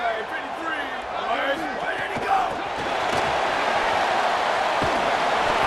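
Home stadium crowd in an EA Sports College Football video game gives a broad, sustained roar that swells slightly toward the end, with a commentator talking over it.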